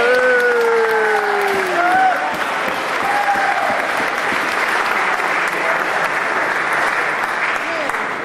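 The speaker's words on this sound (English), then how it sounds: "I suggest a round of applause for them" An audience at a 45th anniversary dinner breaks into sustained applause and cheering, with a few whoops and voices rising over dense, loud clapping that continues throughout.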